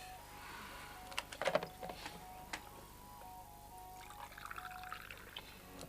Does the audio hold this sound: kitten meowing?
no